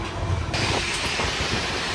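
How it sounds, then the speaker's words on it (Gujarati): Passenger train with AC and sleeper coaches standing at a station, giving a steady broadband hiss and rumble with faint clanking, continuous and moderately close. "તો મિત્રો હવે તમને બતાવી દઉં ટ્રેન"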